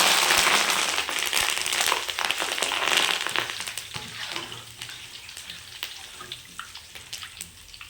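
Curry leaves sizzle and crackle in hot oil in a pan of frying okra, a steady close hiss that is loudest at the start and fades to sparser pops.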